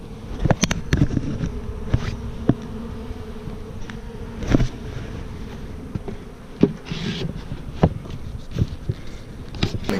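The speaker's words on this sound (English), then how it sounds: "the bees are fanning the opposite way to spread the scent of the pheromone" Honey bees fanning at the entrance of an Apimaye hive, a steady close buzzing hum with individual insects darting past and brief louder passes, no talking.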